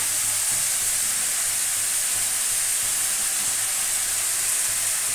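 Jackfruit frying in a pan gives a steady, close sizzling hiss that holds evenly throughout, with faint stirring and no voices.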